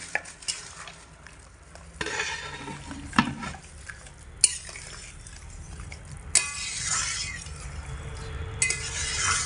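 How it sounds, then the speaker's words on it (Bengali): Vegetable curry with half-ground green chilli paste being stirred and mixed in a pan, with a scraping spoon, faint sizzling and occasional metallic clinks against the pan. "হালকা একটু নাড়াচাড়া করে মিশিয়ে নেব সমস্ত তরকারিটার মধ্যে"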